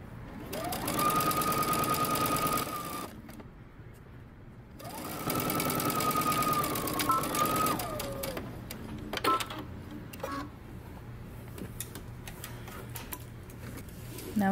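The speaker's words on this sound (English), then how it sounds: "Now I'm going to sew the neck." A sewing machine stitches the neck seam of a jumpsuit in two long, close, even runs of fast mechanical whir, with a pause between, then quieter clicks and handling sounds.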